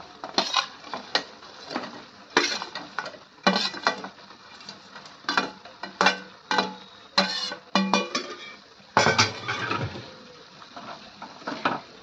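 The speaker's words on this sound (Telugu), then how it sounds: "గ్రేవీ లాగా వచ్చాక మనం ఫ్రై చేసుకొని పెట్టుకున్న చికెన్ అంతా దాంట్లో వేసేయాలి" Fried chicken pieces tipped into a pan of gravy, with sharp metallic clanks and scrapes of a spoon against the pan in irregular bursts over a faint sizzle.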